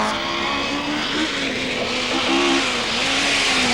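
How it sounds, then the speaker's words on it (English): A Vauxhall Chevette HSR rally car drives hard, its engine note loud and sustained and wavering in pitch as it revs, with faint tyre noise underneath and no voices. "This is a new HSR Chevette."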